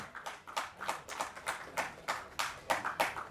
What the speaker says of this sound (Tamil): இதுக்கெல்லாம் நல்ல சத்தமான கைத்தட்டல் கொடுத்து எல்லாரையும் ஸ்டேஜ்க்கு இன்வைட் பண்ணலாம்